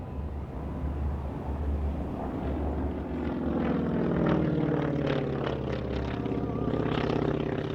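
North American NA-50 propeller fighter flying at an air show, a steady drone swelling gradually as it draws nearer, heard alone at moderate distance.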